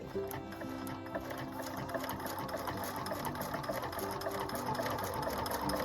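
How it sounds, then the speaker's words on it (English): A Husqvarna Viking #1+ sewing machine stitches at a steady pace, a rapid, even mechanical clatter and whir heard close up and running continuously. "I think this machine sews really quiet"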